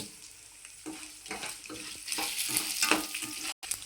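Dry red chilli pieces sizzling in hot tempering oil alongside chana dal and garlic for a brinjal-cucumber roti pachadi, a close crackling fry with stirring scrapes that swells louder, then a brief drop near the end.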